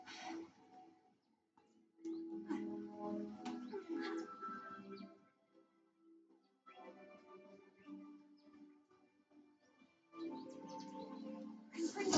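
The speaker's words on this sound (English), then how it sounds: "look at all the colorful birds." Colorful birds chirp in the Hogwarts Legacy video game, with scattered soft tweets heard in short bursts amid quiet ambient game sound, pausing briefly between clusters.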